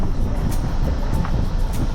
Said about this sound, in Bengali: ঠান্ডা একটা হাওয়া দিচ্ছে